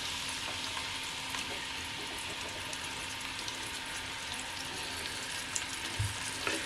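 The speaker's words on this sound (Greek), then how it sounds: "και θα το τσιγαρίσω να το καραμελώσω" Onion sautéing in olive oil in a small frying pan, a steady close sizzle and crackle of frying that holds evenly throughout, with a soft knock near the end.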